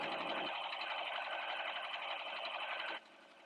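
A sewing machine runs a quarter-inch seam with the presser foot edge as guide, a steady, close, fast whirring stitch that stops abruptly near the end.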